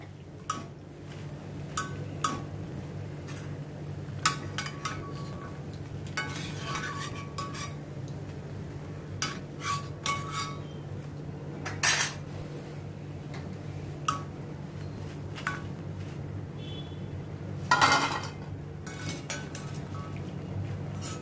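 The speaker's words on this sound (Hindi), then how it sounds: "अभी इनको मैं प्लेट में मैं ट्रांसफ़र करती हूँ, रिमूव करती हूँ।" Golden-brown fried shakarpare being lifted from hot oil onto a plate, with scattered metal clinks and scrapes of a utensil against a pan and plate over a low steady background hum, with one louder clatter near the end.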